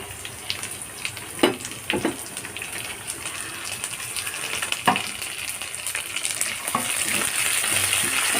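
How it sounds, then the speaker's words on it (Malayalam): Green chillies and curry leaves crackle and sizzle in hot oil in a pan, a steady close frying hiss broken by sharp pops and occasional stirring knocks, with no talking. "ഇനി ഇതിലേക്ക് ഞാൻ പച്ചമുളക് വേപ്പില ഇട്ട് കൊടുക്കുന്നുണ്ട്"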